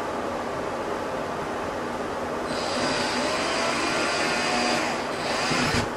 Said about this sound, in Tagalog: Let's drill a hole.